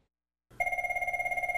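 A telephone bell rings after a moment of silence, a loud, steady trill with rapid regular pulsing, close and alone.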